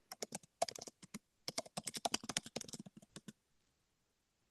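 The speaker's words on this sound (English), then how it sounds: "You can hear Erica quickly typing on there" Quick typing on a computer keyboard at a 100m championship timing desk: fast bursts of crisp, close key clicks in irregular runs, pausing briefly midway, then trailing off into quiet.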